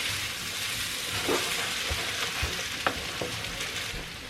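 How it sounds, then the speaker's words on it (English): An egg is stirred into chili hash frying in a pan, giving a steady close sizzle with occasional soft scraping knocks of the utensil and no talk. "we're just going to stir the egg into this hash"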